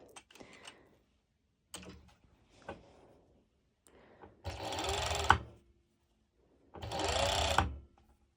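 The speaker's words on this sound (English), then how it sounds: "I have a serger, so yes, I prefer to use my serger" A serger sews a mesh sports top in two short bursts of a few seconds each, separated by quiet pauses with clicks and fabric handling.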